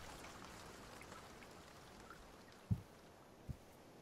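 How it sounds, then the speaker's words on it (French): A brief rain shower in the survival video game Escape the Pacific comes through as a faint, even patter of drops, with two soft low thuds near the end. "c'était une pluie éclair"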